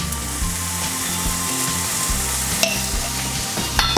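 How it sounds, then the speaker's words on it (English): A spatula scrapes and breaks up rice frying in a pan with tomato ketchup for chicken omurice, a steady sizzle with repeated stirring scrapes, loud and close, over low background music. "Let's break the crumbs up using a spatula."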